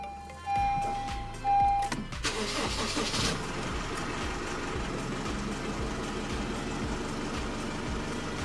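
A car engine cranks briefly after a couple of soft electronic beeps, then catches and settles into a steady, close idle.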